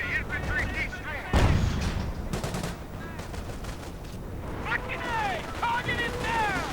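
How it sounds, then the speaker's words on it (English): Artillery and gunfire boom and rattle through a World War II strategy video game battle, with a heavy blast near the start and scattered shots and explosions following, all under a commentator's continuous excited talk. "it immediately comes under counter-artillery fire and gets cleared out again"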